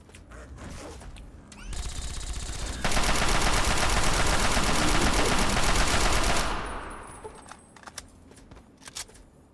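An assault rifle in the video game Fallout 3 fires a sustained automatic burst lasting several seconds, loud and close, preceded and followed by quieter clicks and scattered sharp impacts.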